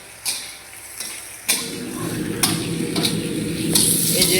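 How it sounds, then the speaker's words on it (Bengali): Cauliflower, carrot and egg frying in oil for Chinese veg pulao, a close, dense sizzle punctuated by several sharp stirring knocks against the pan. "ফুলকপি, গাজর, ডিম, এটাকে তেলে ফ্রাই করছে।"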